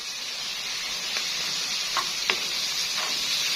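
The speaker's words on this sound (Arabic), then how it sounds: "هنشوح الفلفل بقى" Colored bell peppers sauté in hot oil left over from frying eggplant, producing a soft, even sizzle with a few brief clinks and stirring scrapes.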